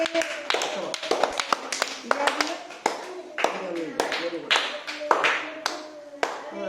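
Schoolchildren clapping in a classroom, several bursts of quick, loose, uneven applause close by, with a teacher's voice speaking briefly between them.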